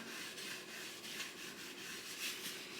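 Mineral oil being rubbed by hand onto a thrifted wooden bowl, a faint, soft rhythmic swishing of cloth on wood repeating steadily, with no talking.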